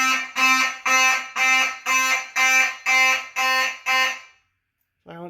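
A building fire alarm system sounding during a test: eight loud, evenly spaced electronic horn blasts, heard from a nearby room, then a pause before a brief voice.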